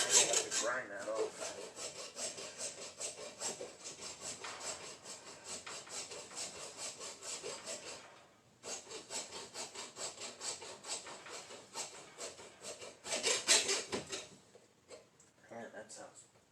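Hand saw cutting steel on a 1976 Yamaha XS 360 motorcycle, a steady rasping back-and-forth stroke rhythm, close and fairly loud, pausing briefly near the middle before resuming, with talk over it.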